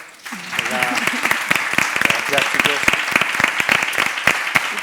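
An audience at a round-table discussion claps in sustained, fairly loud applause while a voice briefly speaks over it near the start.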